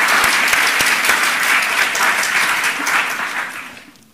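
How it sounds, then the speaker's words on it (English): Loud applause from an audience at a fashion industry talk claps steadily, then gradually fades away near the end. "Another applause."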